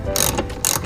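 A hand ratchet tightens the bolt of a racing harness bar in a Nissan 240SX, giving two quick bursts of close, loud clicking separated by a short pause.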